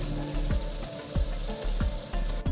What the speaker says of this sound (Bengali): তাল কুমড়ো ভাজা আর ওদিকে চলছে উচ্ছে ভাজা